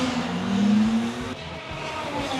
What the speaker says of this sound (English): You're going to be able to hear just the incredible power that comes out of those Chevrolet engines